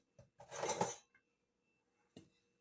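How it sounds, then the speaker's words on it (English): A spoon scrapes and taps against boiled egg halves and a bowl, a few faint, close clinks with a short scraping burst, then quiet and one last light tap. "Just dig out the middle of the yolk."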